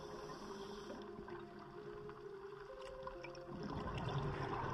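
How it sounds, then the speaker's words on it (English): Faint underwater bubbling and gurgling from a diver's closed-circuit rebreather loop during a bailout, a continuous low wash of bubbles that grows slightly louder toward the end. "Man, lots of bubbles."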